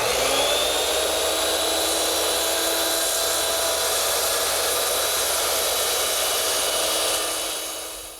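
A circular saw makes a horizontal cut through wood for a stool, with a loud, steady high-pitched whine running almost unbroken before it winds down and fades at the very end.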